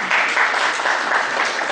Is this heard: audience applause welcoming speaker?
yes